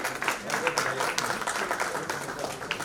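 An audience at an award ceremony for nursing and paramedical colleges claps in a lively, uneven burst, with individual sharp claps popping out of the crowd and some voices mixed in.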